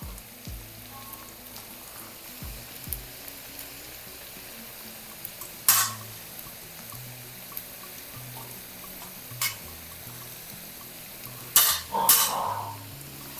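Quiet sizzling and stirring of drumstick pulp in a pan, with occasional scrapes of a utensil and soft clatters over a steady low frying hiss.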